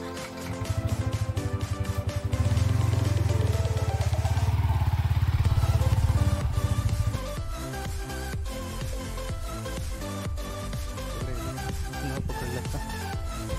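A new Yamaha R15M motorcycle being ridden to a temple, its engine loud and close, droning steadily with a strong low rumble that rises and shifts through gears.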